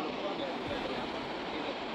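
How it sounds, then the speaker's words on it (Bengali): Rushing water at Bhimkund pours steadily below a bridge, a dense continuous roar that fills the whole clip at an even level with no pauses. "এদিকেও দেখছি জলের প্রচুর আওয়াজ হচ্ছে"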